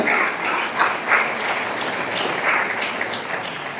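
Crowd at a graduation ceremony applauds continuously for a top student, a thick sustained patter of many clapping hands, loud and close, with slight swells in intensity.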